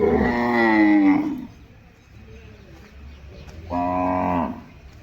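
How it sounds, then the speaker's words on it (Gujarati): Cows lowing at a gaushala cow shelter beside temples in Padra, two long, loud moos separated by a quieter stretch of low background noise. "જો આ રીતે ગાયો અહીંયા આગળ રહે છે."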